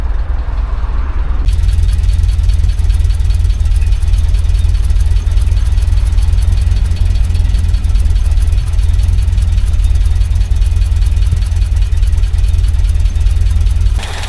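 Talbot Express van engine running steadily with a small exhaust blow at the downpipe, a loud constant low throbbing drone with a fine rapid puffing pulse throughout, close up and without talk.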